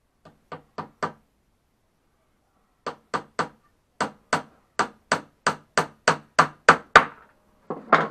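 Nails are hammered into wood with sharp, close knocks, first a quick group of four, then after a pause a long, steady run of evenly spaced blows, with no talking.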